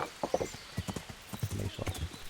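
Horse hooves clip-clopping in the medieval video game Kingdom Come: Deliverance, a steady run of close, distinct hoof strikes on the ground with a faint whinny near the end.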